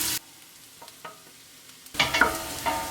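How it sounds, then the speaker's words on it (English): Onions frying in a pot and stirred to soften them: a loud scrape at the start, a few faint clicks during a quiet stretch, then a burst of sizzling with clattering stir strokes near the end. "we're gonna let these cook for about 5 minutes while giving them a pretty consistent stir to get them nice and golden"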